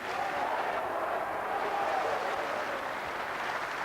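A snooker crowd breaks into sustained applause during a 147 maximum break, a dense, even wash of clapping that holds steady throughout, with a faint voice underneath.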